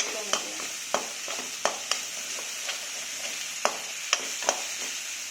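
Poppy seed and mustard paste with turmeric and salt fry in a pan for chitol fish curry: a soft, even sizzle punctuated by repeated sharp spatula taps and scrapes.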